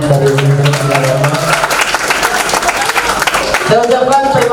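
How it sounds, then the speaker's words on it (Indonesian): An audience claps for friends from Universitas Agama at a 2017 field lecture event. The applause is loud and sustained, fills the middle of the clip, and is bracketed by singing voices and music. "Boleh tepuk tangan buat teman-teman dari Universitas Agama"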